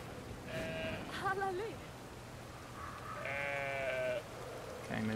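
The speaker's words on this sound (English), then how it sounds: "Should we rescue the sheep?" Sheep in the video game Brothers bleat several times in short wavering calls, moderately close, with background game ambience between them.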